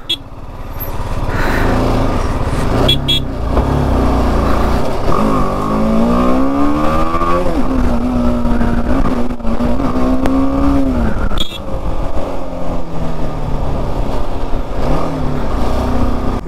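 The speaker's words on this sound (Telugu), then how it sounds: "ఓరే నాయన ఎంత దూరం ట్రాఫిక్ జామ్" Road traffic stuck in a long jam, with engines idling and revving close by and a vehicle accelerating in rising, wavering pitch. Motorbikes and trucks mingle in a loud, continuous roar with a short clatter near the end.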